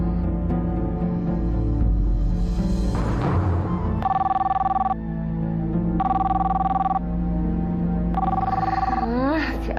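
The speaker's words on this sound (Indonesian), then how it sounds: "Siapa sih telepon malam-malam?" A telephone bell rings at night in repeated bursts with short pauses between them, loud and close, over music and a sustained background tone.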